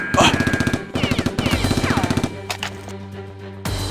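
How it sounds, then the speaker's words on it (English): Rapid bursts of toy gunfire from a Nerf-style blaster battle, loud and rhythmic with repeated pops over about two seconds, then lower mechanical hum and a few scattered sharp clicks. "He raises his weapon and fires"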